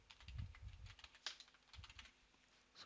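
Someone typing a name on a computer keyboard while installing Microsoft Office apps in Windows 10, a quiet, close burst of irregular key taps with one sharper keystroke partway through.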